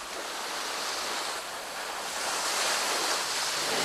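Ocean waves wash onto a Costa Rican beach at high tide, a steady broad rush of surf that swells slightly louder toward the end, with some wind mixed in and no voices.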